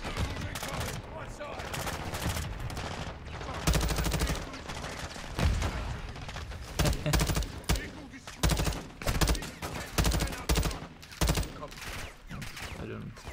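Call of Duty MW2 gunfire: rapid bursts of automatic weapon fire and loud shots, dense and punchy throughout, with a few heavier impacts.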